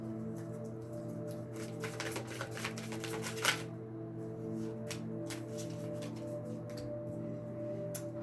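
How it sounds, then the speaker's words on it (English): Tarot cards are shuffled repeatedly, soft riffling and slapping bursts in a quiet room over a steady low hum, with no voices. "Let's keep shuffling."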